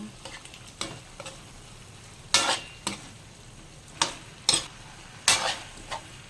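A spoon scrapes and clinks in a pan while cornstarch is stirred into a sizzling pineapple tofu sauce, giving sharp, irregular strokes over a soft, steady frying hiss.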